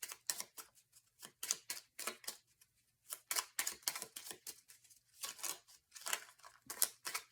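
Small tarot cards are shuffled by hand in quick, crisp riffles and flicks, a rapid series of papery slaps and rustles, close and quiet with short pauses, no talking.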